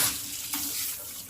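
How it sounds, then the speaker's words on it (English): A kitchen sink sprayer in a hotel suite sends a steady, close hiss of water into the sink, with a brief splashy surge partway through. "Nice sprayer. Get that sink good and clean."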